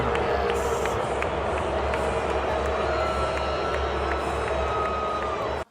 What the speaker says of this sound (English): You're actually booing her